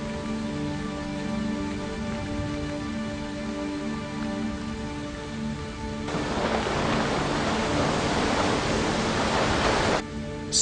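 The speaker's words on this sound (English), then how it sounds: "Spring storms are common" A spring storm of steady heavy rain, with a sudden louder burst of downpour midway through that cuts off abruptly near the end, all over a continuous wash of rushing rain and no clear thunder cracks.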